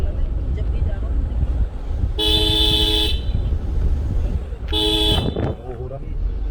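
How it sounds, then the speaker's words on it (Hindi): Two long, loud vehicle horn blasts sound one after another over a continuous low rumble of road traffic on a busy stretch of road, with a truck passing close by. "वो हॉर्न जोन है ये वाकई में।"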